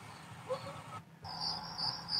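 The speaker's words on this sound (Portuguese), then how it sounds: "Cantos de grilos" Cricket chirping soundscape played through a Kia Niro's car audio, a steady high trill running continuously behind a low cabin hum, with a brief drop out before it resumes.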